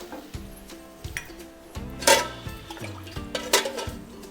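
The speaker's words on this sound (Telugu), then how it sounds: "ఒక చిన్న గ్లాస్ అంటే హాఫ్ కప్ వాటర్ వేయాలండి" Half a cup of water is poured into a pan of chilli chicken gravy in a couple of brief splashy bursts amid clinks and small kitchen noises, close and moderately loud.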